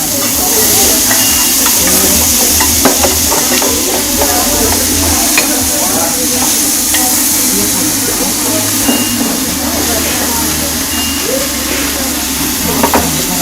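Food sizzles and fries steadily in a very large frying pan, with scraping stir strokes and clinks running throughout, loud and close, with faint talk in the background.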